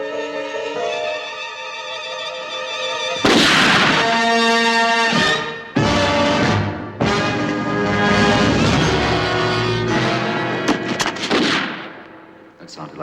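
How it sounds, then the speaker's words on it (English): Gunshots crack out in a dramatic scene, several sharp bursts spaced over a dozen seconds amid a loud, dense musical score, with the reports cutting through at intervals. "That sounded like shots."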